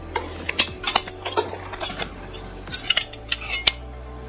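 Coin silver and French silver-plate cutlery, including a very large tablespoon, is handled up close, giving a string of bright, irregular clinks and metallic taps with short pauses between them.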